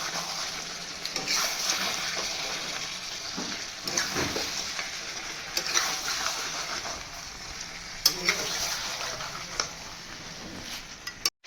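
Parboiled potatoes fry in a pan for a chicken curry, with a continuous moderate sizzle and occasional scrapes and clinks from stirring. There is no talk.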